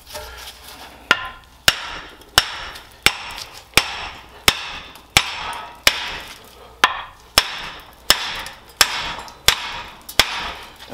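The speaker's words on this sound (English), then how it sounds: "just take a hammer and pound this hub out" Sharp hammer strikes on metal ring out one after another at a steady, unhurried pace, each a loud crack with a brief ringing tail, about fifteen blows in all, pounding out a Saab 9-3 front wheel hub.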